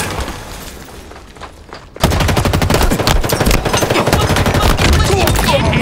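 Automatic gunfire in a Halo Infinite capture-the-flag match starts abruptly after a quieter stretch, then hammers on as loud, rapid bursts of shots close by for several seconds.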